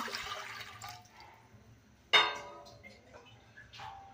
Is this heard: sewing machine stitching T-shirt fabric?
no